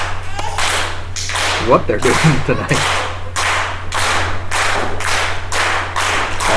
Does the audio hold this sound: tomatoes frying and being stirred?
no